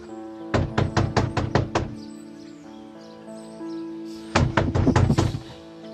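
Two bursts of sharp, rapid knocking on a door at home, about six raps each, separated by a short pause, close and loud in a quiet room.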